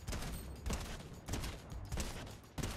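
Gunfire in the video game Fortnite: about five loud, evenly spaced bursts of shots, each sharp and noisy, with short gaps between them.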